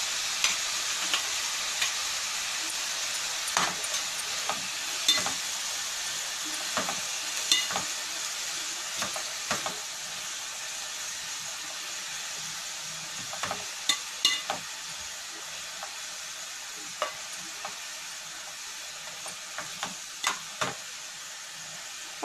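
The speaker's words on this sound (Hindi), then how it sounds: "फिर थोड़ा सा नमक डाल के इसको प्याज को थोड़ा सॉफ्ट होने देंगे" Onions soften in a pan with a pinch of salt, making a long, even hiss of frying broken by scattered sharp clicks and scrapes from stirring.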